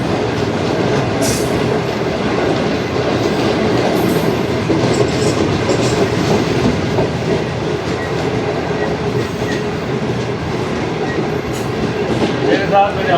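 Pakistan Express train at Gojra railway station in Pakistan, a steady broadband rumble and rolling rail noise continuing throughout, loud and close, with faint brief sounds rising above it.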